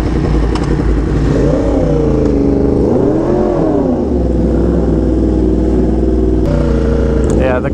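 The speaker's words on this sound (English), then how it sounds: "this is a lot louder than I remember" A Yamaha R1M sport motorcycle engine runs loud and close, rising and falling as it revs, with a person talking over it throughout.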